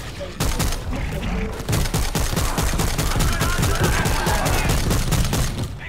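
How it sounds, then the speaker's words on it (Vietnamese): Dense bursts of rapid gunfire from co-op zombie shooter World War Z in Tokyo, loud and nearly continuous, with overlapping rifle volleys and sharp cracks for the whole stretch. "Đạn nổ mạnh quá."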